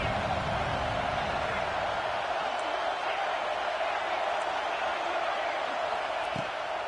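A stadium crowd roars in an NCAA College Football 26 video game during an Oregon vs Washington matchup, a dense, steady wash of cheering that holds at an even level throughout without clear breaks.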